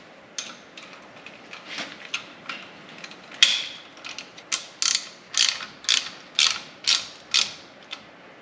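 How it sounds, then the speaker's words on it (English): A ratchet tightens a bolt and nut through an accessory bracket on a 1964 Ford F100 accessory drive kit, giving close, rhythmic bursts of sharp clicking that grow steadier and louder toward the end, with no talking. "Put the nut in place as you tighten the bolt through the bracket."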